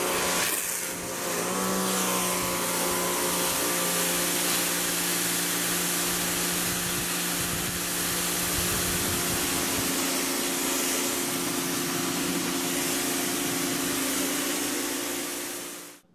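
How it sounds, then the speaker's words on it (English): A pressure washer sprays a concrete porch, a loud, steady engine-driven hiss and drone running unbroken and close for the whole stretch before cutting off at the end. "now I have my pressure washer hooked up, and I'm just going to do a little pressure washing."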